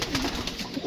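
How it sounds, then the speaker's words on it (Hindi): Pigeons cooing close by, soft repeated throaty coos overlapping in a steady murmur with no voices. "क्योंकि कबूतर नीचे भी हैं ऊपर भी हैं"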